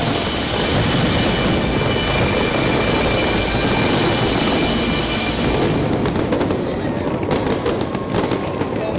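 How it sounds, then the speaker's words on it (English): An SG50 fireworks display thunders with a continuous wash of booms and crackles for about five seconds, then thins into scattered sharp pops and crackling bursts, with a voice faintly present in the noise. "I hope that you have enjoyed that fireworks."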